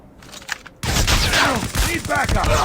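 Rapid automatic gunfire from the video game Call of Duty Mobile bursts in loudly after a quiet start, sustained rattling volleys of shots with someone talking over it.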